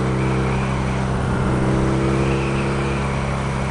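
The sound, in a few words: BMW R nineT motorcycle starter cranking the engine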